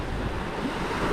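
Sea waves wash near the shore in a continuous low, rushing roar, steady and fairly loud, with wind buffeting the microphone.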